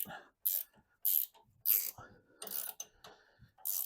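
Ratchet snugging bolts on the front beam of a VW Beetle during a front beam install done without a lift, heard as close, sharp bursts of clicking in a quick, uneven rhythm with brief pauses.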